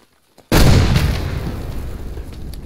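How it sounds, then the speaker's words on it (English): Frag grenade blowing up in Arma 3 during kill house training: after a brief near-silence, one sudden loud close blast erupts, then a long rumbling decay with debris fading over two seconds, no voices. "Grenade."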